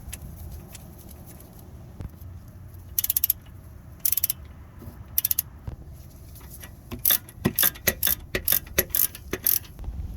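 Ratcheting bursts from a socket wrench tightening brake bolts on a 2009 Hyundai Sonata during a front pad and rotor job, with quick clicking runs that come in short bursts and then a rapid series toward the end, close up and with no talk.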